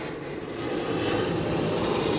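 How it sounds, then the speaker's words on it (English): An airplane drones overhead, a broad steady engine rumble that swells slightly louder as it passes, alone with no talking. "Give a second for that airplane to leave."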